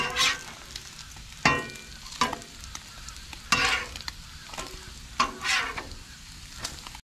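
Bacon and eggs fry on an outdoor Blackstone griddle, a steady soft sizzle broken by several sharp scraping bursts of a spatula tossing the eggs, close and fairly clear.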